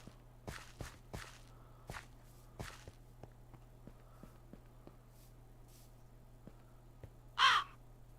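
Crows caw in Minecraft, several harsh calls scattered among footstep-like taps, with one louder, closer caw near the end.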